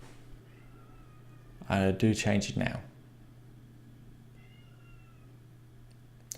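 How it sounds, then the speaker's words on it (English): A cat meows outdoors, a short burst of rising and falling cries heard from inside against a steady low hum, with a person speaking nearby. "And I can hear a cat outside."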